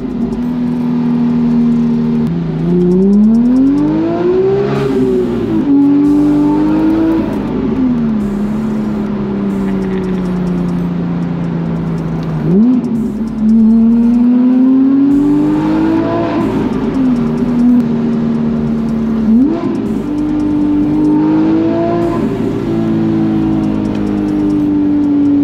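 A Porsche GT3 engine heard with the windows down, revving repeatedly in loud rising and falling sweeps as it climbs through the gears and eases off, close and dominant, with no talk over it.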